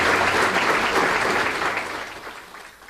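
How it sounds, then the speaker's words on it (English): A crowd at a 40th birthday celebration claps loudly for Prince Buthelezi, a dense wash of applause that gradually fades over about three seconds, with no one talking. "please give His Excellency Prince Buthelezi a massive round of applause"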